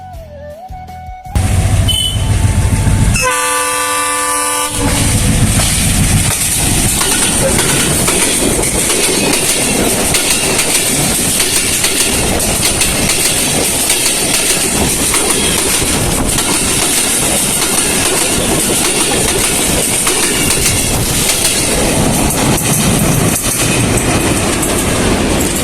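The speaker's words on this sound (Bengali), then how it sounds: "হঠাৎ করে একটা ট্রেনের শব্দ পাই আর তাড়াতাড়ি করে ট্রেনের ব্রিজ থেকে নেমে যাই" A train rolls across a high railway bridge in Rajshahi, its loud, steady rumble and rhythmic wheel clatter close by for the whole stretch after a brief quieter start.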